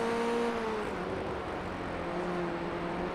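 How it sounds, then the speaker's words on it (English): Formula Ford 1600 race car engine at Knockhill circuit, a steady droning whine that holds and shifts pitch slightly, heard from a distance over a constant broad background roar. "Every time I hear that engine peak, I get a little bit scared myself."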